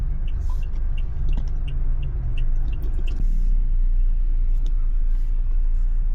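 Road traffic near a golf course in Baguio, a continuous low rumble of passing cars and heavier vehicles, loud and close, with a shift in tone partway through.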